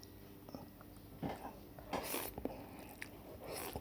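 Someone eating extra-spicy Peyang instant noodles softened in hot water, faint close slurps and soft chewing bites scattered across a quiet room.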